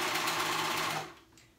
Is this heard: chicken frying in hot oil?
no